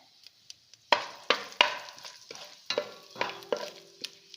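Whole spices such as cinnamon, cloves, cardamom, star anise and fennel drop into hot oil and ghee for paneer biryani, giving a series of sharp crackling sizzles and spoon stirs, close and without talk.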